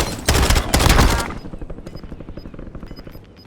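Rapid automatic gunfire from the Warzone video game rattles loud and dense for about a second, then fades into quieter scattered shots and faint beeps.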